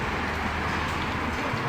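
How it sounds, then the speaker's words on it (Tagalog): Heavy rain pours down in a sudden downpour, a loud, steady broadband wash that stays constant without any pause. "Malakas ang ulan, biglang bumuhos ang ulan."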